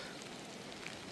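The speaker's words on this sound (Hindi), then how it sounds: "बारिश, आहा बारिश हो रही है" Light rain falls along a mountain cycling route near Tiuni, a soft, even patter that stays faint and steady throughout, with no voices.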